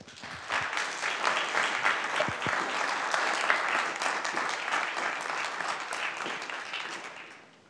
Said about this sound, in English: If we could refrain from clapping or booing